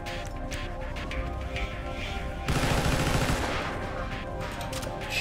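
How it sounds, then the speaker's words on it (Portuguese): Gunfire in a GTA RP video game erupts as a loud, sustained burst of rapid shots over a steady background of game ambience, then the noise drops back to a dense rumble. "tiro na travessa."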